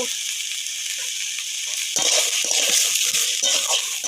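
Potato pieces fry in hot oil with whole dried chillies while an onion-based curry is cooked, giving a steady close sizzle that grows louder and denser about halfway through, with faint stirring crackles.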